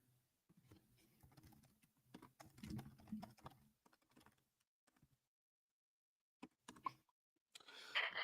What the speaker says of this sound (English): Typing him a message?